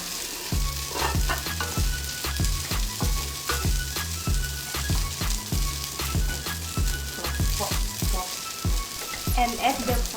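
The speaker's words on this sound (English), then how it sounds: "add the fried rice in the frying pan" Fried rice sizzles and crackles steadily in a frying pan, with rhythmic scraping and stirring strokes of a utensil repeating throughout, close and loud.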